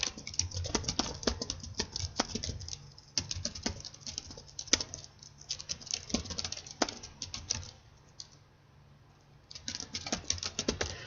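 Quiz question typed on a computer keyboard: irregular runs of light key clicks and taps at close range, with a brief pause near the end before typing resumes, and no voices.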